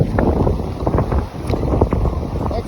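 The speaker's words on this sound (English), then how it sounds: "It's really windy here" Strong wind buffets the microphone on a Florida boardwalk in rainy weather, a loud continuous low rumble with gusting swells throughout.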